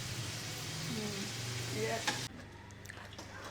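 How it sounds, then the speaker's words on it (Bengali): Noodles cooking with meat in a pan, a steady close sizzle of frying with stirring scrapes over a low hum, which drops abruptly to a quieter simmer partway through. "জুবা রান্না করতেছে নুডলস।"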